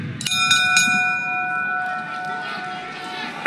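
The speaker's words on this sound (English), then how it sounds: "And at the sound of the bell, your third man in the ring" A boxing ring bell at a heavyweight fight in London gives several quick metallic strikes at the start, whose ringing tone decays over a few seconds while an announcer speaks.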